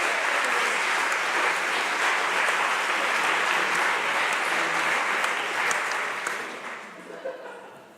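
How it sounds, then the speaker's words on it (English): Steady, dense applause from a live audience at a science slam event, loud and sustained for several seconds before gradually thinning out near the end. "applause."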